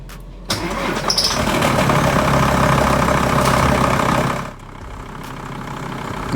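A car engine, being tested for a charging fault, cranks and catches, roars loudly for a few seconds, then settles into a lower steady idle close by, with no talking.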